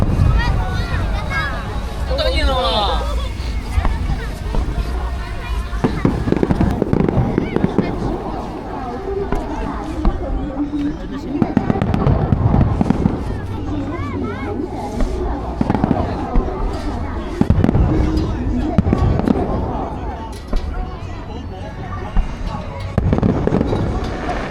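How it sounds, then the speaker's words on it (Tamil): Fireworks and firecrackers bang and crackle repeatedly at a Chinese New Year celebration in icy Harbin, loud bursts scattered through the whole stretch with wind noise and a crowd babbling in the background. "இங்கே பட்டாசு வெடிச்சாங்க."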